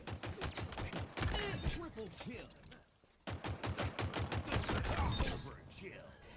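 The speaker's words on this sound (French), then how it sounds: "l'efficacité du sidekick, ce pistolet qui semble remplacer notre bon vieux Magnum en arme secondaire" In Halo Infinite, the Sidekick pistol fires rapid shots one after another in two runs of game gunfire, split by a short gap, while a voice talks over the shooting.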